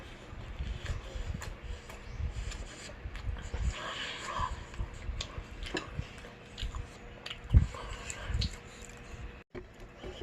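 A corn dog dipped in tteokbokki sauce with fish cake is eaten close up, with soft wet chewing and squishing bites. One louder bite stands out near the end.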